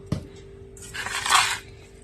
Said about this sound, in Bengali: আর একটা করে বাসন টাসন মাজবো